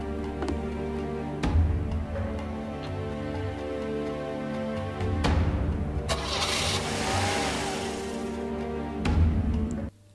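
A car engine in the video game DreamScapes: The Sandman turns over and starts, settling into a mid-pitched idle with a few revs and a hissing burst, loud and close with no talk.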